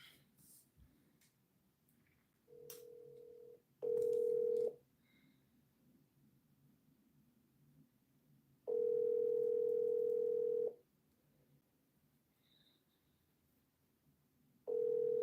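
Steady telephone tones sound in separate bursts, some brief and some lasting a couple of seconds, with faint quiet background between them.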